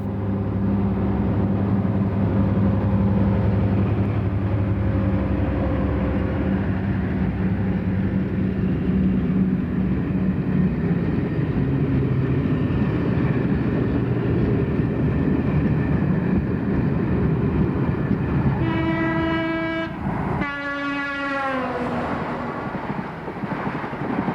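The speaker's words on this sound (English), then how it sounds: "Another of the Deltics emerges from Stoke Tunnel with a northbound express and passes a Class 47" A Class 55 Deltic diesel locomotive hauls a northbound express out of Stoke Tunnel on the East Coast Main Line, passing a Class 47; a loud steady rumble with wind buffeting, then a rising two-tone horn near the end.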